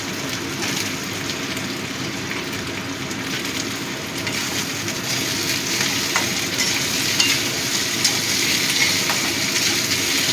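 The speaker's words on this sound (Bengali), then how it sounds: "একটু ভেজে নেব যাতে আদার কাঁচা গন্ধটা চলে যায়" Cucumber and ginger frying in a pan for matar dal, giving a constant dense sizzle with stirring scrapes running throughout, growing slightly louder toward the end, no talking.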